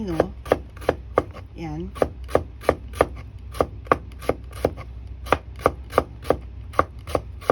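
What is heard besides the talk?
knife finely slicing fresh cucumber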